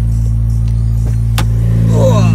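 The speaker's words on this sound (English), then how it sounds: "Lovely cold start, it's loud, it is so loud." A turbocharged, forged Honda Integra DC5 making about 400 bhp idles loud and close after a cold start, with a deep, steady droning rumble and a few sharp clicks on top.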